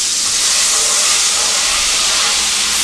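Wine poured into a hot pan on low heat bursts into a loud, dense steaming hiss that holds steady and close for the whole stretch, with no talking.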